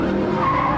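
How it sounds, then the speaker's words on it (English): A racing car with traction control switched off spins its wheels under a stamped throttle: a loud, close tyre squeal over engine roar, rising in a short burst. "you turn the traction control off and stamp on the throttle, you can get it to misbehave"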